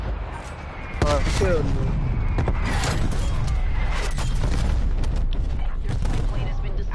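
Artillery strike explosions in a zombies video game land as a sudden loud burst, then sustained booming and crackling gunfire-like rumble continue, with someone talking over the blasts.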